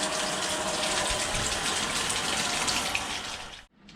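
Water gushes from a tap into a bathtub, a loud, steady rushing splash that continues until it cuts off abruptly near the end.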